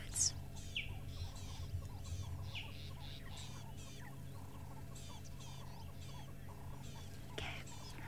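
High, thin chirping calls from a cheetah cub repeat every second or so, bird-like cheeps carried faintly over a steady low rumble of background noise.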